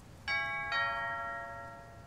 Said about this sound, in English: Ring doorbell.